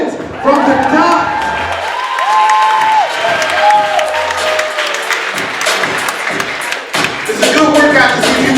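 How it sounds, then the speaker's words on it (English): An audience at a youth poetry slam applauding and cheering a poet, a sustained wash of many hands clapping with crowd noise, while a host talks over it. "people keep clapping until the poet gets to the mic"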